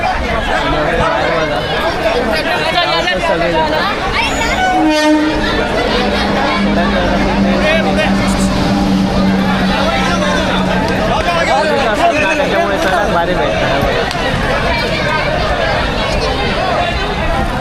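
Crowded passengers pile into the Mangalore Express from Thane: a dense, loud babble of many voices and shuffling bodies filling the carriage, with someone narrating over the din.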